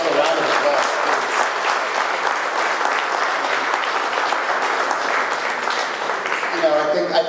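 Audience applause at a retirement celebration for Susan Constantino at The Mezz, a dense, sustained wash of clapping from a full room that runs throughout and tapers slightly at the end.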